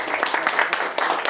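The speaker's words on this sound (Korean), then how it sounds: "박수 한번 치죠" A seminar audience clapping briefly at a speaker's prompt, a short patter of many hands at moderate loudness.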